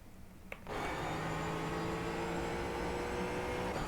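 A Ford Mustang engine under throttle in a racing video game at Watkins Glen, droning loud and steady after a brief quiet start, a sustained engine tone with no talk over it.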